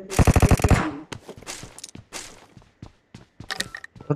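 Gunfire rings out in PUBG Mobile as a rapid burst of automatic shots is followed by scattered single cracks and short bursts, loud and close.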